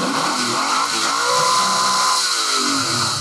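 A Pontiac Trans Am engine runs at a steady, loud idle throughout, a continuous rumbling drone with a slight rise in the middle and no voices over it.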